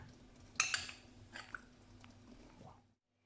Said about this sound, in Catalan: I introduïm la barreja a la paella.